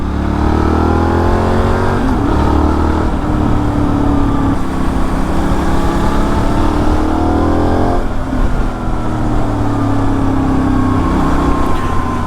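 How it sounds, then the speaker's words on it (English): A Benelli Leoncino Trail 800 twin-cylinder motorcycle's exhaust roars loudly and close as it accelerates, rising through gears in two long pulls with a throaty, steady drone. "Some nice noises coming from that exhaust pipe, don't know if you can hear that. I do love a twin."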